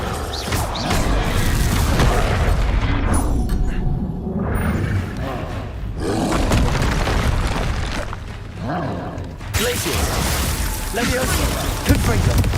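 Confringo fire spells in the video game Hogwarts Legacy set off booming, crashing explosions, one after another, over a dense, loud game soundscape.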